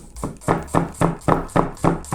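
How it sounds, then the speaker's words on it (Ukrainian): A kitchen knife slices an onion into half rings on a cutting board with eight or so even, crisp chops, one roughly every quarter second, close and alone with no talking. "Беремо цибульку, розрізаємо і ось так пішли."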